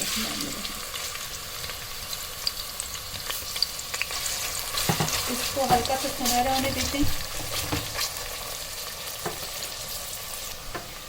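Onions sizzle and crackle in hot oil, with occasional stirring scrapes, while someone talks briefly in Hindi over the frying.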